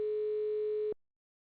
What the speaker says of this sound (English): Answer the phone, Ty.